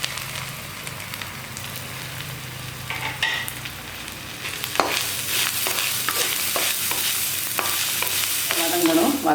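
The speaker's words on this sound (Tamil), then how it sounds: "ஒரு 3 சின்ன வெங்காயம், நல்லா வதங்கணும்." Small shallots sauté in hot oil for a fish curry, a steady sizzle that grows louder and busier as a spoon scrapes and stirs through the pan.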